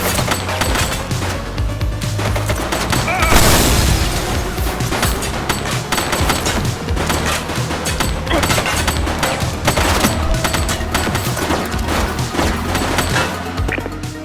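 Dense, sustained gunfire fills The Precinct, a video game played on Xbox Series X, with rapid overlapping shots and impacts forming a loud continuous barrage throughout.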